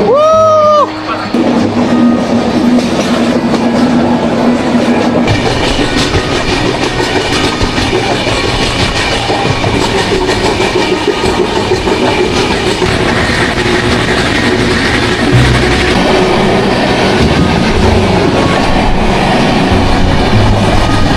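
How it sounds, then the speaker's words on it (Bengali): A train runs on the Araku Valley railway, loud and close, with a steady rumbling roll and clattering wheels over the track after a brief horn-like tone at the start. "এক হচ্ছে আরাকু ভ্যালির সেই সুন্দর ট্রেন জার্নি।"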